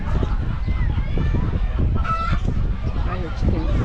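Chickens cluck and squawk close by over steady background noise and chatter, with a few higher calls standing out.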